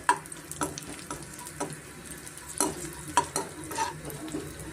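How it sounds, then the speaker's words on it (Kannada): Magaj melon seeds fry in ghee, a soft sizzle broken by repeated sharp scrapes and clicks of a spatula against the pan, with no talking. "ಸ್ವಲ್ಪ ನಾವು ಕೆಂಪಾರ ಫ್ರೈ ಮಾಡಿಕೊಂಡ್ರೆ ನಮಗೆ ಸಾಕಾಗುತ್ತೆ"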